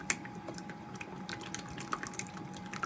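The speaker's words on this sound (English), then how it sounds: "That literally sounds like a water droplet." Soft, wet squelches and small droplet-like plinks come from watery slime being stretched and played with, quiet and close, with scattered clicks and drips over a faint background hum.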